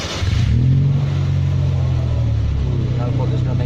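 A 2008 Honda Jazz engine cranks and fires, settling into a steady low rumble close by.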